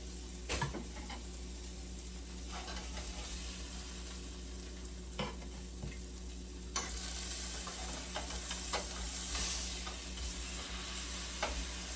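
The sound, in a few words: breakfast sandwich fillings frying in a pan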